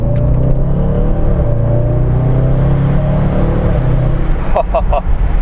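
The 5.0 V8 of a 2016 Range Rover Sport SVR growls and climbs in pitch as it kicks down to second gear and revs hard under acceleration, heard from inside with a voice briefly over it.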